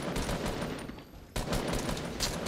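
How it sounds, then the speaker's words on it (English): Rapid gunfire crackles in Fortnite, a dense burst of repeated shots with a brief lull and then a second volley, moderately loud with no voices. "Cannot let this guy shoot me one more time."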